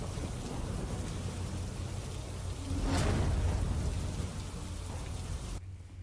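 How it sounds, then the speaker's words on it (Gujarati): Steady monsoon rain pours in the Amreli area, with a dense continuous hiss of falling water and one brief sharp crack of thunder midway before the sound cuts off. "અમરોલી વિસ્તારમાં પણ વરસાદ છે."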